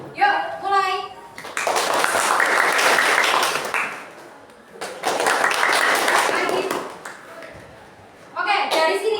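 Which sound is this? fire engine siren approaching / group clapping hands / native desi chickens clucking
group clapping hands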